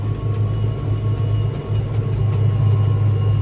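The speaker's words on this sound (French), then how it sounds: "Le tracteur va rester au-dessus des 45 km/h." Deutz-Fahr 6165 RC tractor running fast on a rough road above 45 km/h, giving a steady, close engine drone with low rumble and cabin hum, continuous and without talk.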